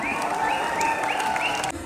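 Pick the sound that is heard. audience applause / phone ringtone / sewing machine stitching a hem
audience applause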